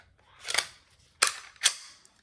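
Sharp metallic slide-and-click sounds of a Beretta APX pistol slide being slid onto its frame during reassembly after cleaning, one longer scrape followed by two crisp snaps, close up and alone.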